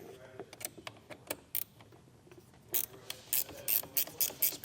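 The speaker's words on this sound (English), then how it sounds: "And then I'll remove this 10mm nut here." A hand ratchet loosens a 10mm nut on a 2018 Lincoln during a trailer wiring harness install, giving quick close clicking bursts, slower at first and then in a faster, louder run of strokes.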